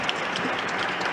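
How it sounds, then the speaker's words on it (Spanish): Applause from a conference audience for the members of a cybersecurity panel, a dense, steady wash of clapping that holds at an even level for about a second. "quisiera pedirles un aplauso para todos los integrantes de este panel tan activo"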